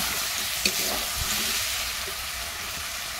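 Duck meat sautéing in a pan for a village-style kosha curry gives a constant dense sizzle and crackle, with a few faint clinks of stirring and no talk.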